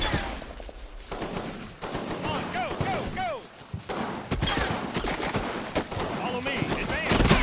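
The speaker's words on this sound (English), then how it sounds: "Our machine guns are trying to suppress it." Machine gun fire in the WWII wargame Combat Mission: Rome to Victory, with sustained bursts of automatic fire and scattered shots clattering continuously and fairly loud, mixed with voices and battlefield noise.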